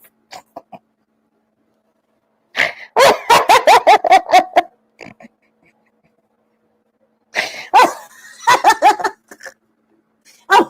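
A dog barks in two rapid, loud volleys several seconds apart, each a quick run of sharp yaps with quiet gaps between.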